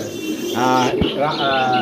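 A pair of red helmet pigeons and a pair of black nun pigeons coo and chirp nearby, a loud burst of throaty warbling rising midway, with a voice faintly mixed in.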